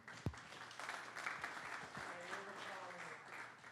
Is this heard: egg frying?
no